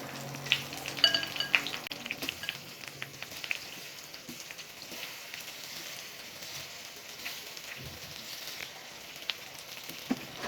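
Marinated raw banana slices fry in a pan over low heat, making a quiet, even sizzle with scattered faint pops and a few light clinks early on.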